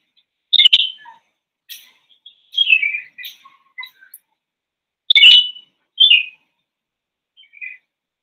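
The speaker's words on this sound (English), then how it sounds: "So the red-vented bulbul and the red-whiskered bulbul." A red-whiskered bulbul gives short, sweet whistled phrases of a few notes each, repeated with pauses between them, clear and fairly close with no talking.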